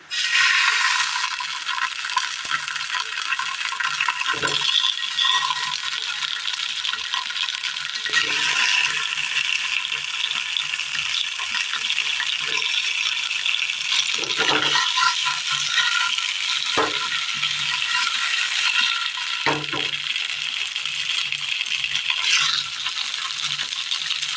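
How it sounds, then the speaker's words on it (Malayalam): A paste of ripe nendran banana and wheat flour sizzles in a lightly oiled pan on the stove, giving a steady close hiss with occasional soft taps and clicks and no talking. "നമ്മൾ അടുപ്പത്ത് പാൻ വെച്ച് കൊടുത്ത് അതിലേക്ക് ഒരൽപ്പം എണ്ണ ഒഴിച്ച് കൊടുക്കുകയാണ്"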